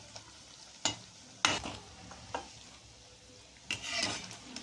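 Methi mathri snacks frying in hot oil, a quiet bubbling sizzle broken by a few sharp clinks and scrapes of a utensil against the pan.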